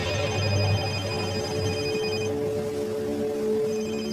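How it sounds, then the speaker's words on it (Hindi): A telephone rings with a steady, tonal electronic ring, fairly loud and close, with no one speaking. "उसी समय समीर का फोन बज पड़ा।"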